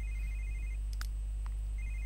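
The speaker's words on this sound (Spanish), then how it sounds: "A ver, responder el teléfono, no sé qué será." A telephone rings in The Sims 3, a pair of bright electronic ring tones separated by a short gap over a low steady background hum, with no talk.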